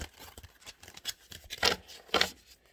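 Tarot cards being shuffled by hand, heard up close as a run of quick papery flicks and riffles that builds into two louder bursts near the end, with no talking.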